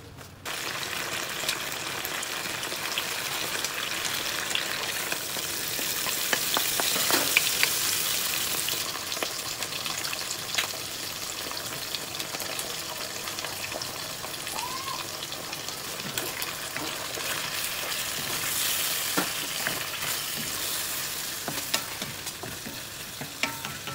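Boiled pork belly sautéed with garlic and onion sizzles loudly and continuously in a hot pan, with stirring scrapes and a brief hissing surge mid-way.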